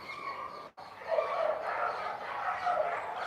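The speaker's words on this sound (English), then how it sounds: "Vrindavan dogs." Dogs in Vrindavan bark and yip over a steady background hum, their calls coming from some distance and running almost without pause after a brief drop in sound.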